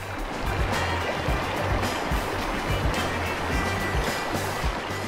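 Water rushes in a constant, close, broadband wash through the Arizona desert after a heavy rainstorm, with no voices over it.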